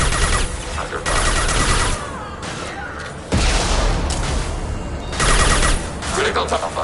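Gunfire in the Mass Effect 2 video game rattles in loud, dense bursts of rapid shots and heavy booms, nearly continuous with brief lulls, close and overwhelming.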